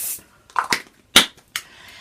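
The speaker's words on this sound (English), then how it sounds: "Then get some hairspray. Make sure it's all up. Spray it over like that." Hairspray being sprayed over hair, several short close hissing bursts separated by brief pauses.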